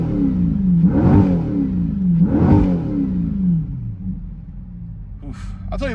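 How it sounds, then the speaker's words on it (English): A C8 Corvette E-Ray with an AWE Track Exhaust revs up twice in quick rising bursts, rumbling exhaust between them, then settles to an idle with a couple of sharp clicks at the end. "let's hear this thing revving"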